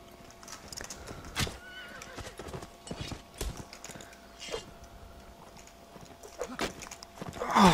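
Horse hooves clopping and a horse neighing in the Mount & Blade Warband multiplayer game, with irregular hoof beats and clanks mixed into battle noise at moderate loudness and no talk.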